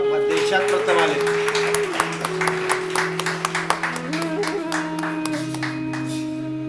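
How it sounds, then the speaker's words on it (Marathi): Clapping from an audience at an award ceremony for a Swami Vivekananda Jayanti prize distribution, a steady patter of hands running throughout under a loud amplified voice and hall hum. "जोरात टाळ्या वाजवा."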